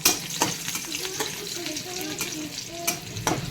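Dried red chillies and garlic cloves sizzle steadily in hot oil in a pan, frying as the base for a spinach dish, with occasional stirring scrapes and clinks throughout.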